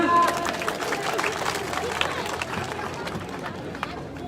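Crowd applause at an outdoor honouring ceremony for Tokyo 2021 Olympic medal winners in Rajgarh, Churu, a dense steady patter of many hands, with crowd murmur mixed in.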